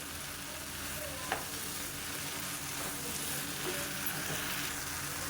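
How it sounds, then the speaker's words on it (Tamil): Mushrooms sauté in a pan for a tomato mushroom curry, giving a steady, close hiss of frying and sizzling throughout, with a faint clink of stirring. "மஷ்ரூம்லேருந்து தண்ணி வரும், அந்த தண்ணி வர்ற வரைக்கும் நல்லா வதக்கி விட்டுக்கணும்"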